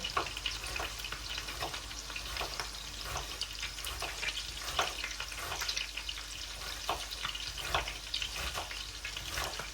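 Pork ribs sizzle steadily in a hot pan, a continuous close crackle with frequent small pops and no voices.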